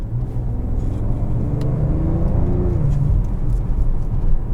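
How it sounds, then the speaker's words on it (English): A 2021 Range Rover Velar P340 with a supercharged engine accelerates from inside the cabin, a steady low engine rumble rising in pitch with a faint supercharger whine, no talk. "I can even hear a little bit of supercharger whine."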